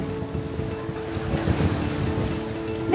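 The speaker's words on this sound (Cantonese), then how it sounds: "喺碼頭搭船過去 North Vancouver" The SeaBus passenger ferry crossing from the Waterfront terminal to North Vancouver rumbles with a low, steady engine drone. Water wash and wind buffeting on the microphone run continuously around it, with no speech.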